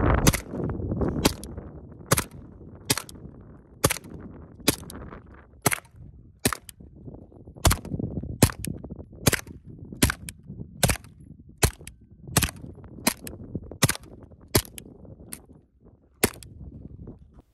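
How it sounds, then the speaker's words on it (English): Suppressed 9mm gunshots from a Brugger & Thomet TP9-N compact PDW fire as a string of about twenty sharp, loud cracks, spaced irregularly roughly one per second, each trailed by a brief muffled rumble outdoors. "I compared it to my MP5 with an Omega 9K, and honestly, I think that this thing has sounded a lot better"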